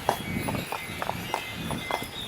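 Horse hooves clip-clop at a slow walking pace on a city street in Philadelphia, a few distinct knocks spaced through the moment over steady street background.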